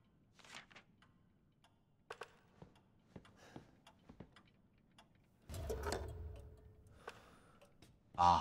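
A clock ticks in a Resident Evil 7 game scene, heard as a series of sharp, fairly faint clicks spaced across the clip, with a louder burst of game noise near the end.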